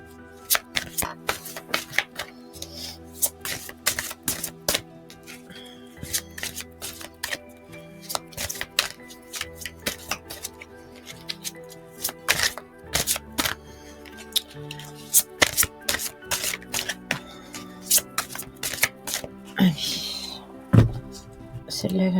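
Tarot cards being shuffled and handled give repeated sharp flicks and riffles in uneven bursts, while someone talks over them throughout.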